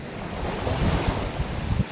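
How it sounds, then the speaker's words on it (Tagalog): Sea waves wash over a rocky shoreline, a steady broadband surge with low rumbling swells and gusts of wind buffeting the microphone throughout. "Dito na tayo sa tabing dagat at tayo sa mga batuhan."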